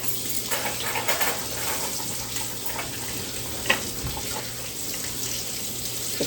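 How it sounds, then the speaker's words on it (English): A kitchen tap runs steadily into a sink as someone washes their hands, a continuous close splashing hiss with a small knock partway through and no talking. "I just want to wash my hands."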